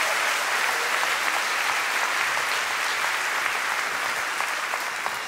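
A church congregation claps steadily and loudly, dense applause continuing evenly from start to finish with no voices standing out.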